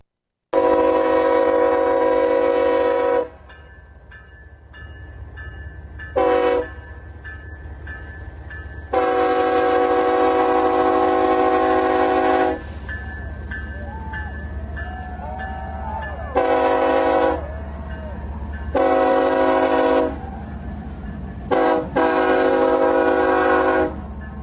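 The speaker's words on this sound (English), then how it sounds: "It's a very short train, obviously, with 4 locomotives" A short BNSF freight train hauled by several locomotives passes close by, sounding a series of loud, sustained horn blasts of varying length over a continuous heavy engine and rail rumble.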